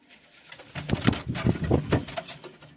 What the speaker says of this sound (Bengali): তো দেখুন এই পায়রাটা